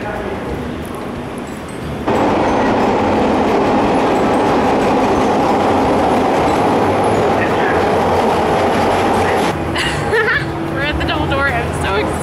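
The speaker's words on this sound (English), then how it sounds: "First time on the subway." A Chicago subway train rumbles loudly and steadily with rattling wheels, a quieter stretch at the start and a voice speaking briefly near the end.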